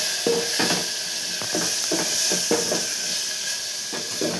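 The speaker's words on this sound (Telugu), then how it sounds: "ఆనియన్స్ మొత్తం వేసేసుకున్నాము. ఒకసారి అయితే కలిపేసుకుందాం." Onions, curry leaves and tomato sizzle in an aluminium pan for a potato curry, with a steady hiss broken by repeated scraping stirs at a fairly regular pace.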